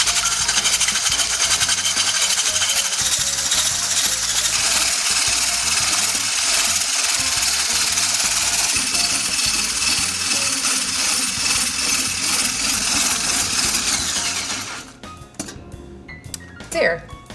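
Electric mixer beating egg whites with cream of tartar, a loud steady whirring drone that runs almost continuously, then cuts off near the end, followed by a few clinks.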